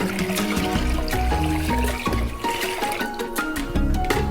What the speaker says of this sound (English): Here, I'm gonna pour through.